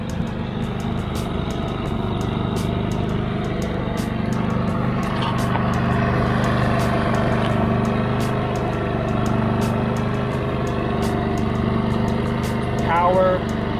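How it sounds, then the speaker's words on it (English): A Cummins Onan P4500i inverter generator runs with a steady, fairly quiet engine hum and drone at close range, unbroken throughout, while people talk over it. "It's pretty quiet. Definitely way quieter than our last generator."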